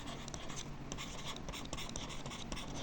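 A pen writing during a maths lesson: steady, faint, close scratching on paper with quick short strokes throughout.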